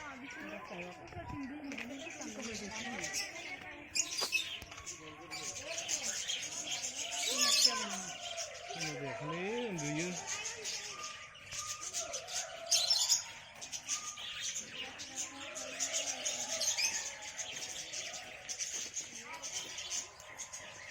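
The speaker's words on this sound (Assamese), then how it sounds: "এইবিলাক চব কেৱল চৰাই থাকে খুব ধুনীয়া চৰাই থাকে ইয়াত" Birds chirp and tweet in scattered bursts in a zoo aviary in Assam, moderately near, mixed with people talking and ambient outdoor noise.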